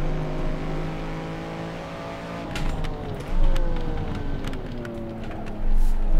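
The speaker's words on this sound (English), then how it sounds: "you can then get back on the throttle and play with the car through the corner" Race car engine in the Assetto Corsa video game revving and easing through a drifting slide, with harmonic pitch sweeping down and back up as the throttle comes back on, loud and continuous.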